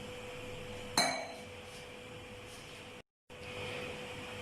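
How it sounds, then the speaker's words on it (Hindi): A pressure cooker lid is closed with a single sharp metallic clink near the start, followed by a quiet hum of background noise and a brief drop to silence. "ये कुकर का ढक्कन बंद कर दूंगी इस तरह और वेट ऊपर रख दूंगी।"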